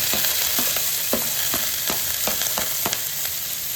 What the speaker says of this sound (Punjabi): ਜੀਰਾ ਪਾਤਾ ਆਪਾਂ ਉਹ ਪਿਆਜ਼ ਵੀ ਪਾਤਾ